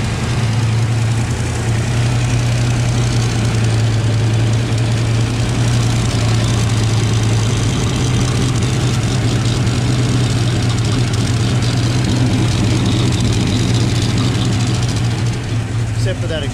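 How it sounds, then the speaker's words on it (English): A turbocharged Ford Foxbody engine idles steadily with an exhaust leak at the downpipe flange, giving a loud, constant low rumble and drone that runs unbroken throughout. "It's like the exhaust leak's coming around the down tube flange."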